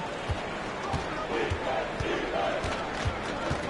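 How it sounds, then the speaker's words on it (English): A basketball arena crowd at a Bucks vs Wizards game roars in a dense, sustained wash right after an alley-oop dunk, with faint ball bounces and murmured voices under it. "the crowd got their jaws dropped on that one"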